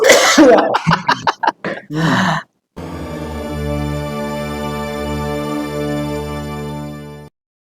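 A person coughs several times in quick succession, close up, followed by a steady sustained musical tone that fills the rest.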